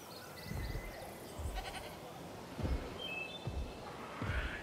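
Goats bleat in the video game Jurassic World Evolution, several short calls at moderate distance over a steady ambient game backdrop, with a few low thumps spaced through the scene.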